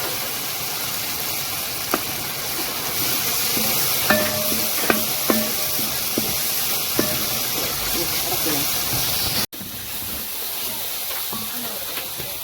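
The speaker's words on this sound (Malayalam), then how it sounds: "ഇതിലേക്ക് കുറച്ച് സോയാ സോസും കൂടെ ഒഴിച്ചു കൊടുക്കാം." Tomato sauce and soy sauce hiss and sizzle steadily in a hot pan with chicken, a continuous frying noise broken by a few clinks and stirring knocks, near and moderately loud, with a short cut toward the end.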